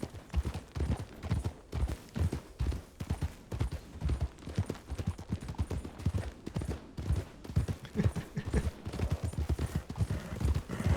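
Horse hooves clip-clopping in a Red Dead Redemption style video game near Blackwater, a quick, steady rhythmic trot of close, loud hoofbeats continuing throughout.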